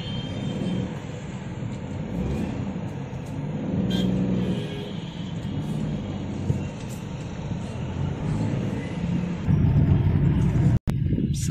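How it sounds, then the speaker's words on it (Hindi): Heavy road traffic jam in Raipur: a continuous low rumble of engines and passing vehicles, steady and fairly loud throughout with no clear breaks. "भीड़ के कारण ट्रैफिक इतना है"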